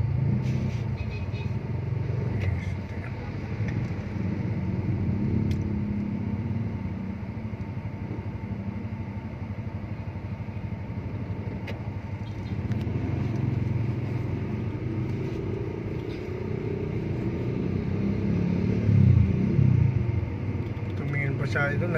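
Continuous low rumble of cars and motorcycles crawling in slow road traffic, heard from inside a vehicle, with someone talking over it throughout.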